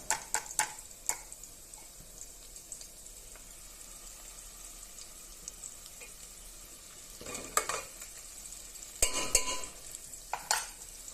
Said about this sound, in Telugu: ఇది ఒకసారి కలుపుదాము, మంచిగా ఫ్రై అవుతుంది.